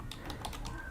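Fast typing on a computer keyboard, a run of about seven crisp, evenly spaced key clicks in one second, close and clear over a faint low hum.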